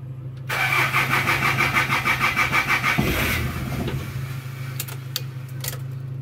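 A Hyundai Galloper's starter cranks the engine in a rapid, even chugging rhythm for a few seconds without it catching, then stops and leaves a low hum and a few faint clicks.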